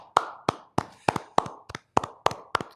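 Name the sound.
applause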